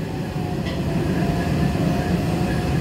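An MBTA Green Line CAF Type 9 light rail train on the B Branch outbound to Boston College runs with a continuous close rumble and hum from the car interior, with no talking.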